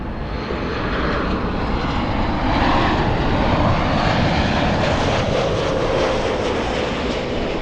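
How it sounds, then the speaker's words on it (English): An airplane arriving at LAX from Las Vegas gives a loud, steady engine roar that swells and holds throughout, with no voices. "This one flying in from Las Vegas."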